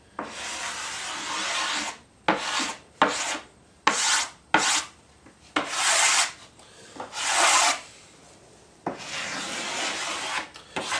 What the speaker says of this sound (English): always with the wood grain, or if you have to go against the grain, just be very careful. Don't press on the scraper too much.